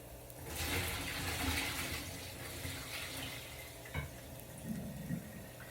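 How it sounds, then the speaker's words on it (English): Hot water poured off cooked udon noodles into a sink, a continuous rushing splash with a few small clunks and knocks toward the end. "I'm just going to take them, and I'm going to drain them"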